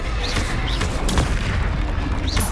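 Booming blasts from a fiery Confringo spell in a video game sound over a dense, continuous roar of combat noise, several loud thumps close together with whooshing tones in between.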